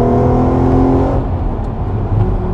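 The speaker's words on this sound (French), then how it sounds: "On rétrograde, bim, et là on réaccélère." Volkswagen Golf 5 R32 with its naturally aspirated V6 downshifting and re-accelerating: a loud, dense engine roar with a quick drop in pitch, then a rising, building howl close by.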